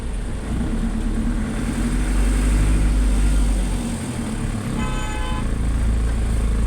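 Car horns toot in a traffic jam on the NLEX expressway near Marilao, a short horn blast standing out over a constant low rumble of idling engines and road noise.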